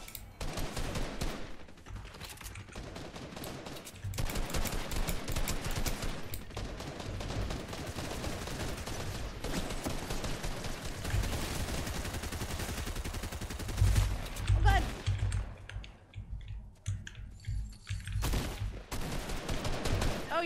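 Rapid gunfire from Fortnite matches against bots, with dense bursts and volleys running almost the whole way through, sometimes over a player's voice.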